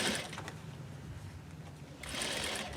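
A sewing machine top-stitching along the waistband of denim jeans, a steady close mechanical whir that runs continuously and grows louder and faster near the end.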